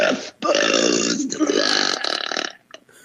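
A long, loud, drawn-out burp lasting a couple of seconds, rumbling and rough, with a brief pause near the start and a fading tail.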